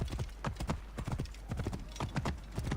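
Horse hooves clip-clopping in Assassin's Creed, a quick steady run of distinct hoofbeats at close range, loud and continuous with no talk over them.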